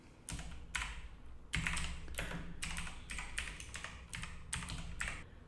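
Fingers type terminal commands on a computer keyboard in quick bursts of clicking keystrokes separated by short pauses, close and clear with no voices.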